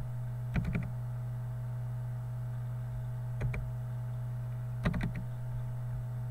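Computer keyboard struck in three brief clusters of quick key presses for a copy shortcut during digital design work, soft and close over a steady electrical hum.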